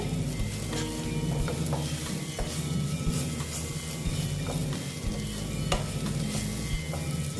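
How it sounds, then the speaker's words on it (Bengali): Besan-coated okra frying in a pan while being stirred, with a steady sizzle and repeated scraping, clinking strokes of the spoon against the pan, close and continuous with no talk. "আবার এটাকে আমি একটু নেড়ে চেড়ে নিচ্ছি"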